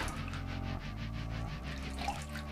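Tap water runs steadily into a Thirsty Badger lather bowl for a couple of seconds, a continuous close splashing hiss.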